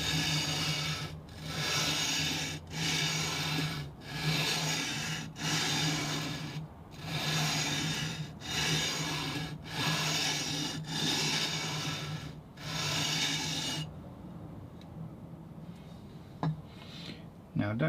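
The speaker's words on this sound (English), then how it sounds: "take my leveling beam, which has got 320 sandpaper stuck on it, and gently run it across the frets to make sure they're all level" Leveling beam with 320 grit sandpaper rubbed across guitar frets during a refret, about ten steady back-and-forth rasping strokes, close and even in rhythm, before the scraping stops and only faint handling noises remain.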